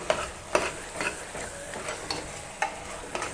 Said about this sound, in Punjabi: ਬਸ ਇਹਨੂੰ ਦੋ ਚਾਰ ਗੇੜੇ ਦੇ ਕੇ